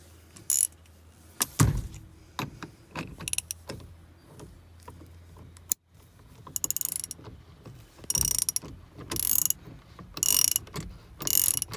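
A ratchet tightening a wheel back onto a 1986 Ford F-150 truck, with bursts of rapid clicking cranking separated by pauses, clanks and handling noises, close by with no talk.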